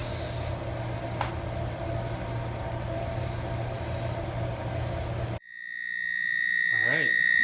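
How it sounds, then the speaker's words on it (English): A Dash egg cooker's timer sounds once its water has boiled off and the eggs are done: a steady, loud, piercing electronic beep that cuts in abruptly after several seconds of low humming room noise. "the timer will go off, and we'll see how that works"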